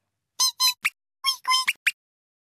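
A voice imitates a mouse with a run of short, high, nasal squeaks in two close bursts of three to four, loud and near with no other sound around them.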